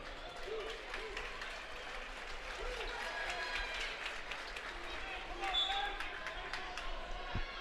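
A high school varsity basketball crowd fills a gym during a game between Hortonville and Neenah with a steady roar of cheering and shouting. Scattered ball bounces and sneaker noises sit under the din.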